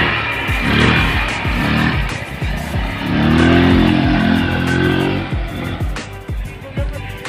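A Rusi Gala or Passion SC125 motorcycle accelerates nearby, its engine note climbing in a steady revving pull over several seconds amid busy roadside noise, with some voices in the background.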